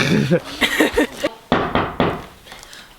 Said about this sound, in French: Ça frappe à la porte.